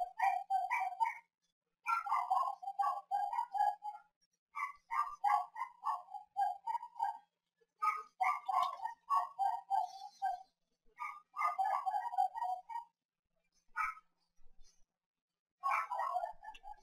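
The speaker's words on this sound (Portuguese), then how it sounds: "o cachorro não para de latir agora" A dog in the video game Bully barks nonstop in repeated bursts of rapid, clipped yaps, each volley a second or two long separated by short silences, loud and near with no voices.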